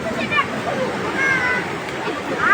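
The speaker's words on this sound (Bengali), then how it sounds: "পানি কিভাবে আসছে দেখেন।" Floodwater rushes through a breached riverbank embankment in a continuous broad roar, with voices talking over the water.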